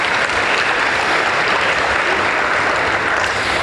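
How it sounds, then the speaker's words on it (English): Loud, continuous audience applause at a school fall athletic assembly, an even roar of many people clapping throughout with no pauses. "Yes, applause, they deserve it"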